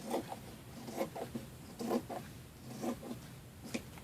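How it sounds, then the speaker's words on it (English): Scissors snip through a knit scarf in a series of short, crisp cuts close to the microphone, irregular in rhythm, with no talking. "I'm going to cut this piece off here"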